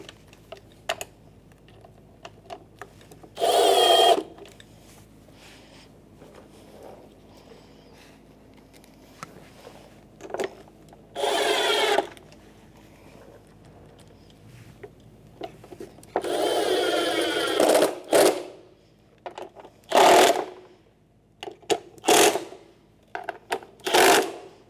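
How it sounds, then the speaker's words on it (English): Ratcheting and driving with a 7mm socket on the four window regulator mounting screws of a 2011-2021 Jeep Grand Cherokee: short separate bursts of whirring and clicking, close and fairly loud, with quiet gaps between them. "you're going to reuse your 4 mounting screws with a 7mm socket"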